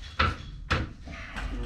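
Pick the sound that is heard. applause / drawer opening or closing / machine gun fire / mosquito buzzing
drawer opening or closing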